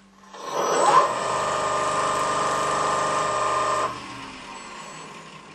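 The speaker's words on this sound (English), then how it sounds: "You can see, I'll turn the lathe on even." A wood lathe fitted with an Escoulen eccentric chuck spins up and runs with a steady, loud motor hum and whine for about three seconds, then drops to a quieter spin-down.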